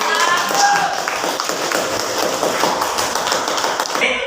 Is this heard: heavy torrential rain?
no